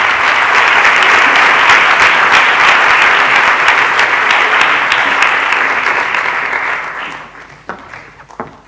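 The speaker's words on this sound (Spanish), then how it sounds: "Un aplauso, por favor" An audience at a season presentation at Madrid's Teatro Español applauds loudly and densely for about seven seconds, then the clapping fades quickly to a few scattered claps.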